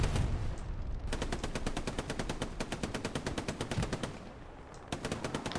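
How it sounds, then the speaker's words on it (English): Rapid bursts of machine gun fire in the World War II shooter Hell Let Loose, a steady rattling stream of shots broken by brief pauses, loud and close with no voices over it. "Just launching some bullets from the NG to suppress the enemy team."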